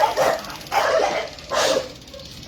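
A dog barks three times in quick, evenly spaced bursts, close and fairly loud, with a whiny, yelping edge to each bark and no talking.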